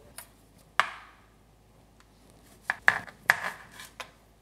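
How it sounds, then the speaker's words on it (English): A knife dices a tomato on a cutting board, a few sharp, separate chops with gaps between, followed by a quicker cluster of cuts, close and clear in an otherwise quiet kitchen. "now we can turn our attention to our tomato and get her all diced up and ready to go"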